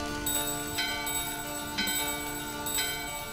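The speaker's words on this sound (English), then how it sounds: "ring the bell" A bell in Final Fantasy IX chimes steadily, with bright repeated strikes about once a second ringing out alone over a sustained tonal game backdrop.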